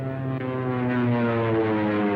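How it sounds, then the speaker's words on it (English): A propeller scout plane drones steadily overhead, a low humming buzz with a constant pitch, moderately loud and alone. "There's a scout plane."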